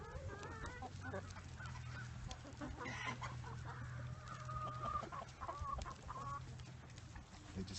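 Free-range farm chickens clucking nearby in a barnyard beside goats, a few soft overlapping clucks and calls over a low steady background hum.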